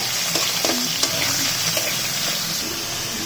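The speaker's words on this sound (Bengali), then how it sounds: "তেলে হালকা ভাজা ভাজা করে নিতে হবে" Steady, loud sizzling of beef frying lightly in hot oil in a kadai, with a few light clinks and scrapes of stirring scattered throughout.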